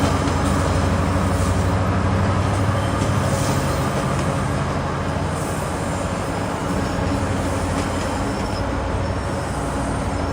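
A GO Transit MP54AC locomotive of 5,400 horsepower pulls a train bound for Oshawa into the station, giving a loud, steady rumble and roar that holds throughout, without speech.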